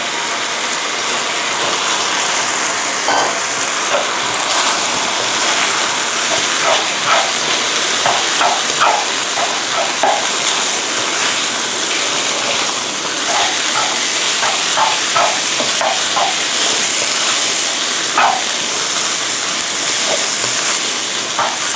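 Cooked rice is spread and stir-fried across a hot wok for Thai fried rice with fermented pork, a continuous close frying hiss with clusters of spatula scrapes and clacks against the pan, no voices present.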